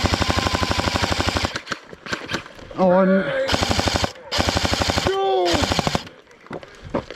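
Airsoft guns fire in rapid full-auto bursts during an outdoor airsoft game, loud and close, with players shouting and talking between and over the bursts.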